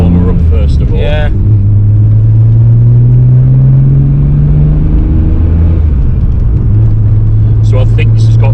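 A Nissan GTR R32 engine warming up from cold, a loud steady low idle rumble with a rising then settling drone, close by, with voices talking over it at the start and end.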